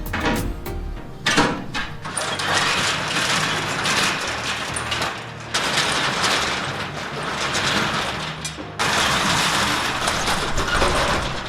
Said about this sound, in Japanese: 今シャッター閉めたんで